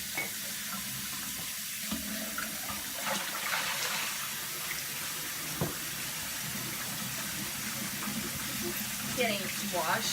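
Tap water runs continuously into a sink while dishes are washed, a steady close splashing rush with faint clinks, and someone talks over it.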